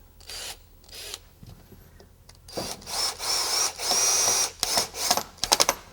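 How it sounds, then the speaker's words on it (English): Cordless power drill driving number 8 screws into a wooden concrete-countertop mold: several bursts of whining motor, short then longer, with pauses and a rapid stuttering flurry at the end. "I'm going to take my number 8 screws"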